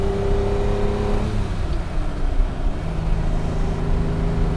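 A Ferrari 330 America engine revs on its first drive of the year, burning off last year's old gas on a mild spring day. Loud, close engine tone whose pitch shifts up and down, with no talking.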